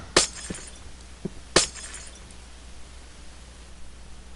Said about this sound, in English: And I'm going to go ahead and break the glass here.